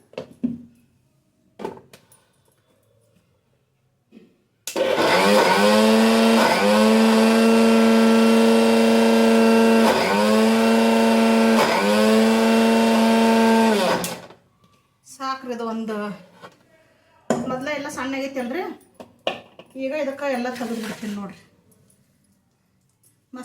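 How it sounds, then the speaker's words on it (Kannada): Kitchen mixer grinder blending spicy masala for alasandi bajji, a loud steady whine running for about nine seconds with small pulses in the pitch, followed by someone speaking close by. "ಇದೆಲ್ಲ ಹಾಕಿ ಇನ್ನೊಂದು ಸತಿ ಮಿಕ್ಸಿ ತಿರುಗಿಸ್ಬಿಡ್ತೀನಿ ರೀ"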